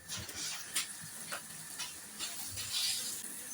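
A layered lachha paratha cooks on an oiled tawa over low heat, giving a steady, soft sizzle with faint scraping and clicking as it is turned.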